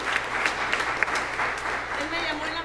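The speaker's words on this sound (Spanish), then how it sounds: "damos un aplauso" A Sunday church service congregation gives light applause, a soft, steady patter of clapping mixed with voices talking in the room.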